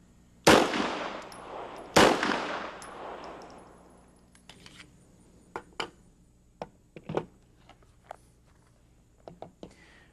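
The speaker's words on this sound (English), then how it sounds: "Pause and fire the final 2 aimed shots." Two loud, sharp gunshots about 1.5 seconds apart, each with a long ringing decay, fired at a target on a shooting range, followed by quieter scattered clicks and knocks.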